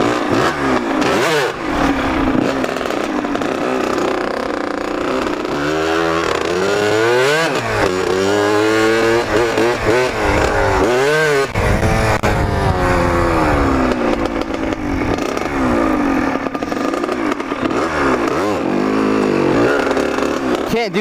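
A motorcycle leans through a corner and accelerates, the engine note climbing and falling in repeated revving sweeps, loud and close alongside steady wind noise for the whole stretch.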